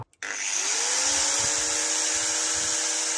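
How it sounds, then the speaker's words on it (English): A mains-powered Makita angle grinder runs unloaded on a Jackery solar generator, starting with a sudden whine that holds a steady, loud, high-pitched spin for several seconds, close by and without speech. "What if you've got a mains Makita grinder like this?"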